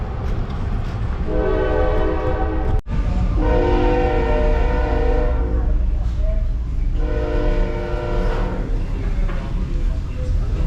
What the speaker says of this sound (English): The old Norfolk Southern heading west.